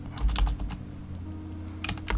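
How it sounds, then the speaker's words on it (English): Continuous computer-keyboard typing, with rapid clicks and clusters of keystrokes close to the microphone over a low steady hum. "Lots of typing in this one."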